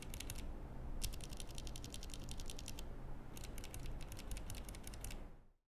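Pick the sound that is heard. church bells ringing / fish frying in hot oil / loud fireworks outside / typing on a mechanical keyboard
typing on a mechanical keyboard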